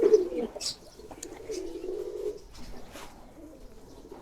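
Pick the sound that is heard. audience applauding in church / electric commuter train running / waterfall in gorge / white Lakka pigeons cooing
white Lakka pigeons cooing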